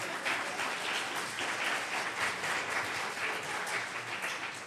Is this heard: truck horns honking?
no